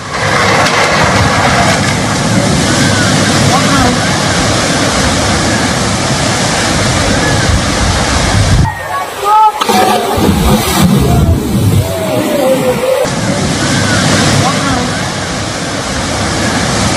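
Floodwater rushes through a flooded town in Mandi, Himachal Pradesh as a loud, steady roar of torrent, briefly broken by a jarring cut midway, with an engine-like rumble mixed in and no clear speech.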